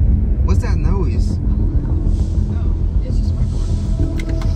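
Inside an automatic car wash, a car's low rumbling noise mixes with whooshing spray and brushes, loud and continuous throughout, while people talk over it.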